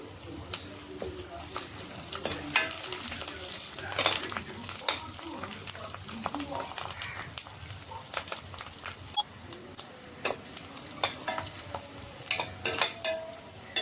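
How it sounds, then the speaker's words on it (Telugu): Onions and curry leaves fry in a pan for a dry fish curry, giving a steady close sizzle broken by frequent scraping clicks of stirring. "ఎర్రగడ్డలు అయితే వేగాయి."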